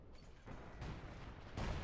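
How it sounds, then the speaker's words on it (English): Artillery barrages in Company of Heroes 2, a dense rumbling wash of distant booms that swells in two stages, heavy and continuous with no talk. "Wow, a lot of artillery over here."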